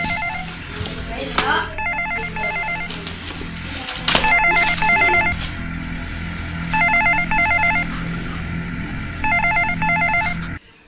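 A telephone rings repeatedly in a home, four bursts of a warbling electronic ring separated by pauses. The call goes unanswered while clatter and background voices continue underneath.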